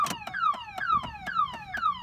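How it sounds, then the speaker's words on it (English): Factory car alarm on a 1994-2001 Toyota Camry after a dead, disconnected battery, sounding a loud repeating chirp-like wail with falling sweeps about every half second, alone with no talk. "now I put it back and I get this stupid car alarm."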